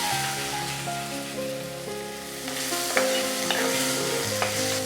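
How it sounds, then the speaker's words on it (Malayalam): Diced medium tomato fries and sizzles in a pan over a low flame while being stirred, a steady close sizzle with occasional scraping clicks of the spoon. "അതിങ്ങനെ ക്യൂബായിട്ട് കട്ട് ചെയ്ത് അതുകൂടെ ഇതിലേക്ക് ചേർത്തു"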